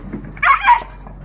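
Dog yelps and whimpers in short, sharp cries after being slapped by an angry monkey, a brief close burst over a quiet background.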